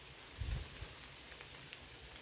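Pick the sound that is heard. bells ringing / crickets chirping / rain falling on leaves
rain falling on leaves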